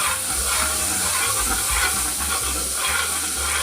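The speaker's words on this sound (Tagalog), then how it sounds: "mainit na yung ating margarine at saka nag-melt na" Star Margarine melting and sizzling in a hot pan before sautéing onions for beef kaldereta, a steady, close frying hiss with light stirring scrapes throughout and no voices.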